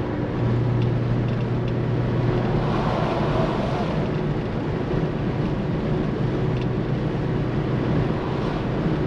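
A Moskvich-403 car fitted with an M-412 engine drives along under barely any throttle, its engine and road noise forming a steady, continuous drone with a low hum from inside the cabin.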